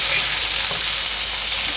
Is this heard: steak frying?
yes